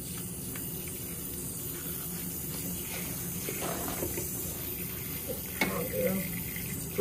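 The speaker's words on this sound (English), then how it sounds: "Turn on hot water." Hot water runs from a tap into a sink during flea removal from a cat, a steady splashing rush under intermittent talk.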